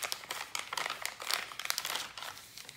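Crinkling of avocado-dyed paper for a junk journal: close, dry crackles and rustles in irregular bursts, with no voices.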